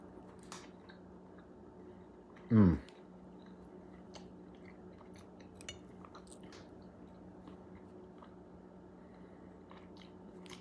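A single crunchy bite into cooked salmon, one short loud chew in an otherwise quiet room with faint background hum.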